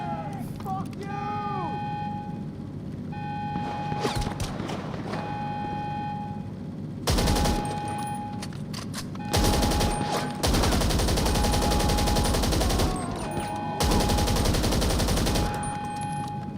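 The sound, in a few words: gunfire emptying a whole magazine in GTA 5 Online video game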